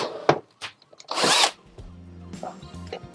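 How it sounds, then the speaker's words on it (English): A power drill whirs in short bursts, with a loud high-pitched spin in the middle, then lower grinding as the bit pilot-drills holes through carpet and metal in a camper van. "pilot drill holes in there so I can go through there and through the metal"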